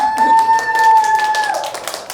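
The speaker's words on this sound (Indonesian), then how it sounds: "Ya, tepuk tangan dong." A small group in a classroom claps for a student group's presentation: light, scattered hand claps over a steady ringing tone, with no voices.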